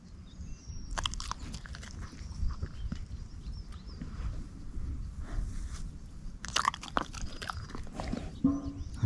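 A Taiwan Dog chewing and biting food at a campsite during an off-road camping trip with a Hilux, giving close, irregular crunching bites and smacking over outdoor background noise.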